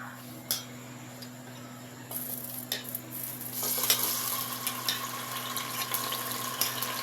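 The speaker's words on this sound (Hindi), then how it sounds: "अब हम इसको फ्राई करेंगे।" Pieces of taro root (arbi) frying in hot oil, a steady close sizzle that swells and grows busier partway through, with occasional clicks and a faint low hum underneath; no one speaks.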